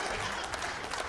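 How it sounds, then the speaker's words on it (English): Brief burst of audience clapping at a stand-up comedy show, a dense, steady patter of many hands lasting about a second. "Don't clap!"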